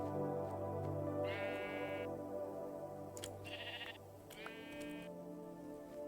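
Several short, nasal Minecraft sheep bleats sound one after another over a steady low background hum.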